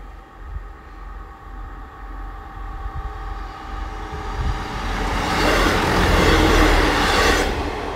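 A train approaches and passes over the Morton Road level crossing, its rumble building steadily to a loud, broad roar with faint rhythmic rail clatter.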